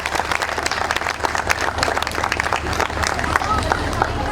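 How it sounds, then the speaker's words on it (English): An audience at a school annual day gives a round of applause, a loud, dense wash of clapping with some crowd murmur underneath, steady throughout. "So let's applaud once more for them."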